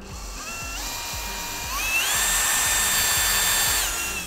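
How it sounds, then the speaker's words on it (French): A power drill drives screws into a PVC window frame, its motor whining up in rising pitch steps and holding a high steady tone, with a faint ratcheting tick underneath, close and alone without speech. "il n'y a plus qu'à visser les vis."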